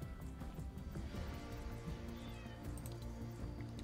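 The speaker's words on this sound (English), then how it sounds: "I hear somebody else's cat" A pet cat meows faintly indoors, its thin cries barely rising above a constant low background rumble.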